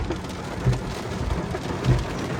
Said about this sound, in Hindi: गाइस पानी बरस रहा है खूब ज़्यादा